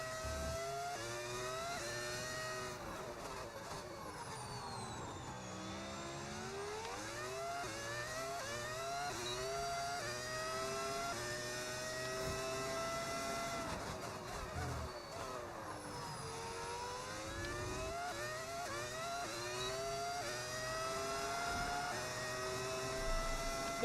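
A modded V10 Formula 1 engine sound in the F1 26 racing game during a Daniel Ricciardo driver career: a loud, continuous high-pitched wail. It rises and drops with gear changes and throttle swells throughout.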